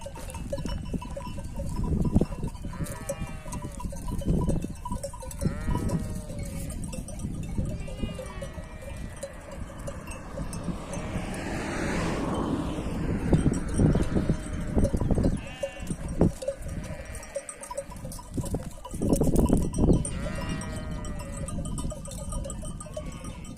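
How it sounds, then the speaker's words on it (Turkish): Sheep bleat repeatedly at varying distances over an outdoor field ambience, a ewe calling for her lamb, with bursts of rustling and knocking noises scattered throughout. "bu koyun kuzusunu çok kaybediyor"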